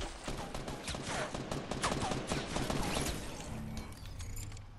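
Rapid gunfire in the video game Fortnite, dense bursts of shots and fusillades rattling nonstop at a loud, steady level with mechanical clicks mixed in.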